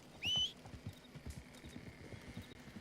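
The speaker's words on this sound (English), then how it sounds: "this horse is like a generational horse" A horse gives a short, faint whinny early on, followed by light, irregular clip-clop of hooves, distant and quiet with no talk.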